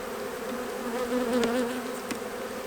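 Honeybees buzz steadily at close range during a cold-weather January hive inspection, a continuous droning hum that swells briefly near the middle with no talk over it.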